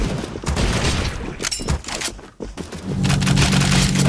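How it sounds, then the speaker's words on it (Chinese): An explosion erupts in an arena video game, with loud bursts and crackling blasts followed by a sustained roaring, rumbling wash of noise. "为什么突然爆炸了？"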